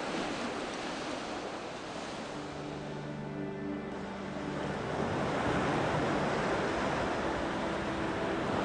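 Ocean surf surges steadily onto a beach at low tide during a beach archaeology dig, a continuous loud wash of breaking waves with gusty wind noise and no voices.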